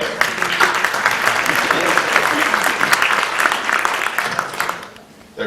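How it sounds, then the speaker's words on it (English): Concert audience clapping after a talk between songs, a loud, sustained round of applause that thins out and fades near the end. "They're clapping because we're going to stop talking."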